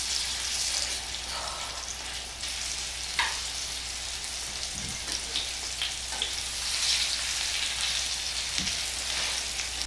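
Thanksgiving leftover patties frying in a pan, with a steady close sizzle and crackle and a few brief scrapes or stirs, no talking.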